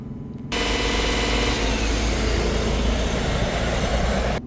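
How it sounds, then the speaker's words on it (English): A Porsche Cayenne 3.0 V6 TDI diesel engine with a throttle body fault is held at steady high revs of about 2500 RPM, a loud continuous drone that kicks in abruptly after a brief quiet moment and holds constant. "Maximum revs on this is 2500 RPM, or maybe a little bit below that even."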